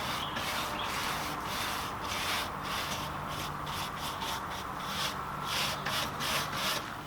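Danish oil being rubbed by hand into the wood of an upcycled acoustic guitar, giving a steady, close scrubbing hiss with repeated back-and-forth strokes and no talking.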